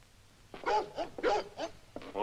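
A restless dog barks at night in a gothic horror film, giving a quick run of four or five close, sharp barks and yelps in an uneven rhythm against a quiet background.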